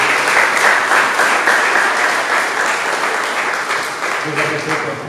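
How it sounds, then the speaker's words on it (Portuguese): A church congregation applauds in praise of Jesus during an evening service, with dense, sustained clapping from a large crowd that holds steady and close throughout, with a faint tonal sound entering near the end. "Vocês podem aplaudir a Jesus?"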